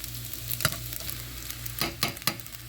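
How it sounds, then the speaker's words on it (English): Strained Bertel tomatoes hit a hot pot and sizzle with a steady frying hiss, broken by a few sharp scraping clinks of stirring, close and fairly loud. "I'm going to go ahead and add my strained Bertel tomatoes"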